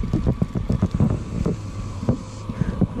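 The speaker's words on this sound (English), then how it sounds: "that wind is blowing like crazy" Strong wind gusting across Lake Hickory in North Carolina on a winter day, buffeting the microphone in heavy, uneven rumbles with choppy water slapping against a fishing boat close by.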